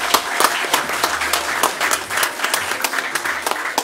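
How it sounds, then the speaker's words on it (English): An audience at a journalism awards ceremony applauds the nominees, a lively clatter of individual claps with distinct sharp hits over a softer crowd bed. "let's applaud all those nominees first"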